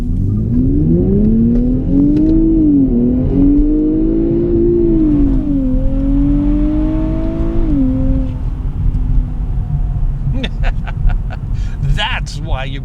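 A 2023 Nissan Z sports car accelerates hard, its engine note climbing in pitch through a strong pull with a brief dip at a gear change, loud and close, then easing off before a few sharp clicks and knocks.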